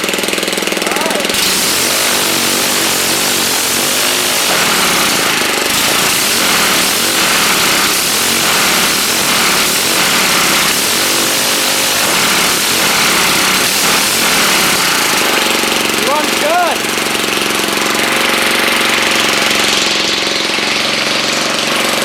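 A small vertical-shaft engine converted to horizontal configuration sputters to life and runs loudly and continuously with a rapid chugging rhythm, revving briefly near the end.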